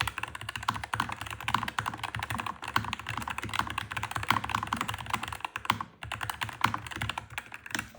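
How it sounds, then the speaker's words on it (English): Rapid, continuous clacking of an Epomaker Carbon60 mechanical keyboard being typed on, close and steady, with brief pauses between bursts. "It's got mechanical keys, it feels really good to type on, and it sounds awesome too."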